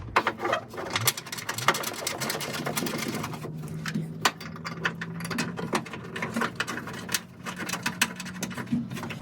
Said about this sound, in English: And then finish them off with a ratchet.